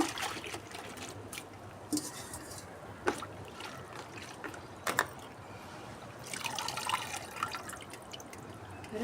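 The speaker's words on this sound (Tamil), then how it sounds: "நல்ல தண்ணியில் போட்டு அலசுங்க" Quiet water sloshing and dripping, with soft splashes and trickles as manathakkali leafy greens are swished around in a basin of water, plus a few sharper splashes.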